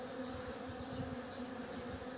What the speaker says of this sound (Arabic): هذا تقاتل بين نحلة صفراء ونحلة سوداء